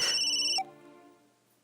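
A mobile phone's electronic ringtone plays loud and close for about half a second, then cuts off abruptly, leaving a fading tonal tail.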